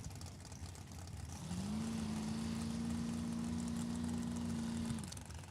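A dragster at a drag strip, a steady droning engine tone swelling in from a distant background roar, holding for a few seconds before fading, heard from afar.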